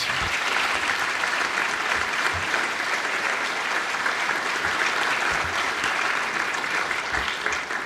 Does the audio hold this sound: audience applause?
yes